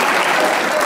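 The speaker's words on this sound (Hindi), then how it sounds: "मतीन साहब यूं ताली बजा रहे" Studio audience applause at a Pakistani comedy talk show, a dense, steady wash of many hands clapping close and loud throughout the short burst.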